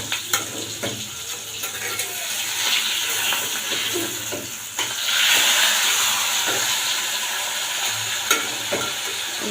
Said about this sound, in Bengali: এখন এগুলো একটু ভালো করে ভেজে দেব।